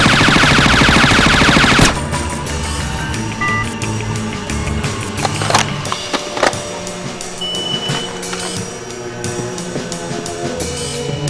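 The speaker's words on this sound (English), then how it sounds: "fully automatic fire when you hold the trigger down" Fully automatic rifle fire in Splinter Cell: Chaos Theory, a dense rapid burst of shots at the start, then scattered sharp reports and mechanical clatter over a busy game background.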